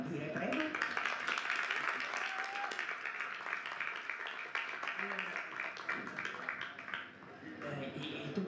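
Audience applause, a quiet and distant patter of many hands clapping with voices talking over and through it, continuing for several seconds.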